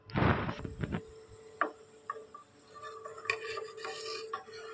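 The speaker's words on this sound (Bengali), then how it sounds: "দুধটাকে এইভাবে 2-3 বার নাড়িয়ে নেব।" A utensil stirs milk boiling in a pot at home, starting with a loud clattering knock and then giving scattered light metallic clinks and taps against the pot, quiet and close, with no talking.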